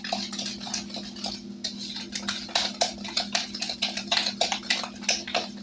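A spoon beats flour and milk cobbler crust batter in a bowl, producing rapid, irregular scraping and tapping strokes against the bowl, close and moderately quiet over a low steady hum.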